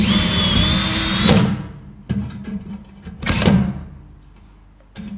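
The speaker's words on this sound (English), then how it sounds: "you drill it straight through the center." A power drill with a bit drilling out a sheet-metal rivet on a DIY garage toolbox, a loud close whine that cuts off, followed by a second short burst and clunks.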